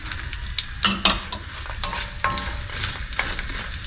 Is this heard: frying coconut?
yes